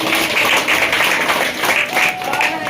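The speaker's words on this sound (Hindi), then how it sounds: "जोरदार तालियां" Audience applause with clapping and crowd noise at a business planner meeting in Virar West, a dense steady wash of many hands that swells and dips slightly throughout.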